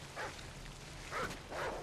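The dog Riley in Call of Duty Ghosts, a few faint, brief whimpering yelps spread across two seconds over a low background hum.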